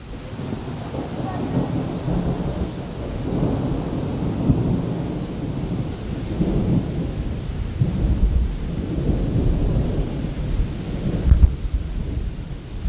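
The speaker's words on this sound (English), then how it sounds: "We both kind of like a good storm." Thunderstorm with rolling, rumbling thunder over steady rain and some wind buffeting the microphone, with repeated swells of loud, near thunder and a sharper crack near the end.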